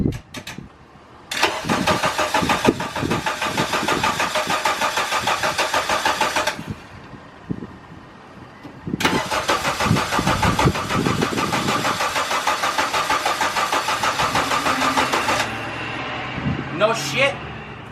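A Honda EK wagon cranks for its first startup in two long bursts of rapid, rhythmic starter churning separated by a short pause, ending in a brief sputter as voices talk nearby.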